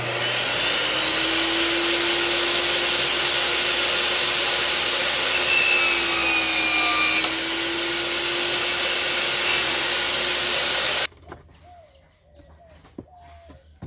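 A circular saw with its blade tilted to 45 degrees cuts wooden moulding for an arched door, a loud steady whine and rasp that runs for about eleven seconds and then stops abruptly, leaving a quiet room and faint birdsong.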